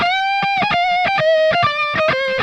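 Distorted electric guitar playing a quick double-tap lick, a bright sustained note repeatedly broken by rapid tapped stutters, loud and close with no voices.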